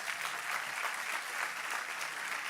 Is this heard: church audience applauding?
yes